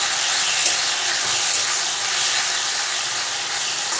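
Sliced tomatoes hit hot oil with frying onions for a capsicum gravy, setting off a loud, steady sizzling hiss that carries evenly through the whole stretch with no talk.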